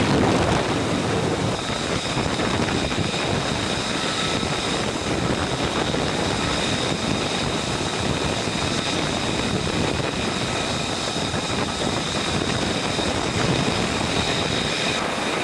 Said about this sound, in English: two F-35C Lightning II carrier variants conducted their first arrested landings aboard USS Dwight D. Eisenhower